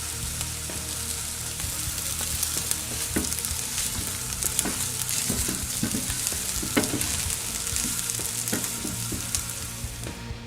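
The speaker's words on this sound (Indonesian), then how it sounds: "Jadi ini namanya blanching, tapi menggunakan minyak, biasanya kan air." Potato pieces blanch in hot frying oil, giving a dense, steady sizzle and bubbling crackle that stays loud and even throughout, with no voices.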